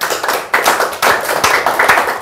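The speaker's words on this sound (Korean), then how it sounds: "박수 한번 쳐주세요." A lecture audience claps briefly and loudly in a dense burst of hand claps that swells in waves over about two seconds.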